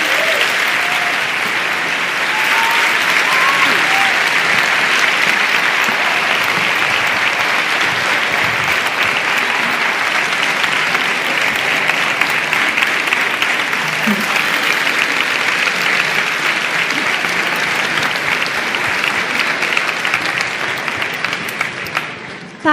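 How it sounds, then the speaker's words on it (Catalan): An audience at a schools' tribute concert for a singer breaks into loud, sustained applause, a dense steady roar of many hands clapping that holds for about twenty seconds before cutting off. "per a qui demane el primer i més fort de tots els aplaudiments"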